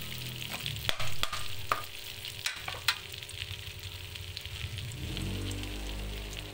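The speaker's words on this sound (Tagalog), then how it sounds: "dairy cream ang ating kinagamit sa pag-isa ng bawang sibuyas at saka yung ating buto-buto" Garlic, onion and pork ribs sautéing in melting dairy cream, a close sizzle with sharp clacks and scrapes of stirring early on, then a steadier, fuller frying noise toward the end.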